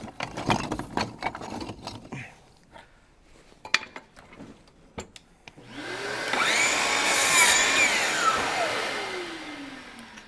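A power tool cuts a piece of Evolve Stone, preceded by scattered handling knocks and clicks. A loud, close, high grinding whine then builds, holds for several seconds and winds down in falling pitch as the blade spins down.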